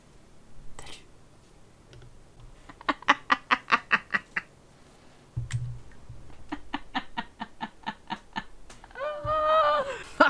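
Chicken in The Sims 4 wedding game pack gives a rapid run of loud, evenly spaced clucks, then a second rhythmic burst, ending in a squawk, alone with no talk.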